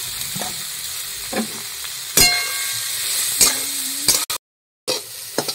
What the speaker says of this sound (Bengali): গাজরটা আমার ভাজা ভাজা হয়ে গেছে